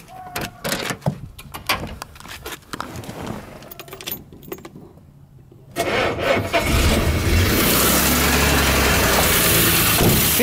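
Door and handling clatter give way to a Jaguar Mark X 4.2 straight-six with triple carburettors starting and settling into a loud, steady idle that runs a little high.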